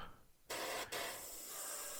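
Airbrush spraying paint over a template for German hard-edge splinter camouflage on a 1/32 Revell He 111 model, a steady close hiss starting abruptly, breaking for an instant, then continuing evenly.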